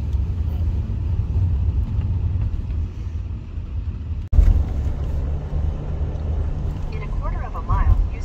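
Steady low road rumble fills the cabin of a car driving on a UK road trip toward London, with one brief jolt midway and faint, muffled voices underneath.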